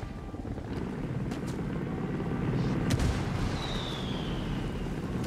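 Mortar fire and distant gunfire in Ghost Recon Wildlands, dull thumps and pops over the steady drone of a helicopter, with one sharper crack midway.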